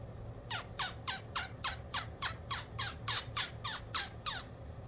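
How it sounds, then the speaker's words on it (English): A rapid series of about twelve sharp, high squawking yelps from a turkey call, evenly spaced and fairly loud, with no talking. "That's the sound, that's the turkey sound that you're getting out of this call."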